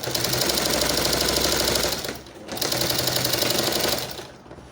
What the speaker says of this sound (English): So when you are sewing, just follow the curve, okay? Don't sew it straight.